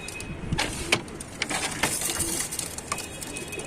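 Male pigeons cooing at a loft sale in Tanta, Egypt, with soft, repeated calls and scattered fluttering and clicks throughout, fairly close and moderately quiet.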